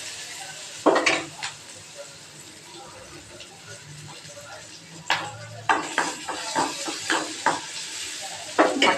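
Ginger and garlic sauté with green chillies in a pan for a simple chutney, a soft sizzle broken by intermittent scrapes and sharp clinks of a spoon against the pan.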